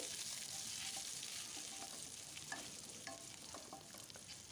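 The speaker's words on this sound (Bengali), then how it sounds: "আদা রসুনটা একটু নেড়ে চেড়ে ভেজে নিচ্ছি" Grated garlic and ginger frying in oil as they are stirred for a spinach dish, a soft continuous sizzle with light scrapes and taps of a spoon against the pan, fairly quiet and close.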